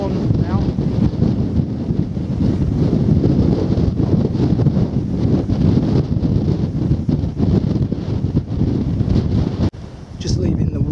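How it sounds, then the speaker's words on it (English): Strong wind buffets the microphone on a coastal clifftop walk near Ringstead Bay and White Nothe, a loud, gusting roar that persists throughout and briefly dips near the end, while a person speaks. "Wind full on now."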